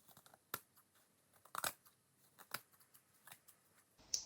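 Scissors snipping paper to straighten a junk journal cover, a series of short, crisp cuts and rustles heard close and quiet, irregularly spaced, with faint paper handling between them.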